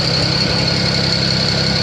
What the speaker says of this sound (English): the car is running good